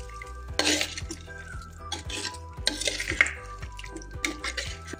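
A spoon stirs a Kerala-style hot and spicy pork curry in a pan. The scraping and clinking of the utensil against the metal come in irregular bursts, close up with no talk.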